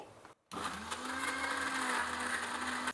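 A kitchen mixie grinds raw onion for chutney: after a brief silence its motor kicks in and runs with a steady, loud whirring whine to the end.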